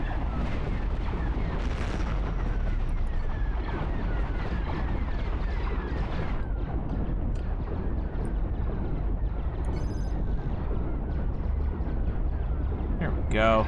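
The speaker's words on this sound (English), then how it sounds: "Oh, that's gonna explode." Ship parts blow up in the space game Cosmoteer, making a dense, continuous roar of booms and rumbling blasts that runs throughout.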